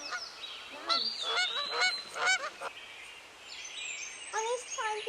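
Swans in a park in London honk in a series of nasal, repeated calls, several birds overlapping in uneven bursts at moderate distance over outdoor background noise.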